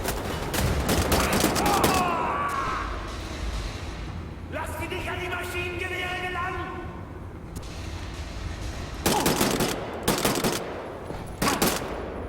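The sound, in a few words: gunfire from video game Wolfenstein: The New Order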